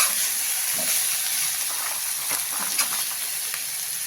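Sliced potatoes fry in a pan for tawa paneer pulao, producing a steady, close, bright sizzle and hiss with small crackles and no voices.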